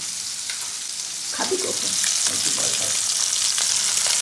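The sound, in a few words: rohu fish frying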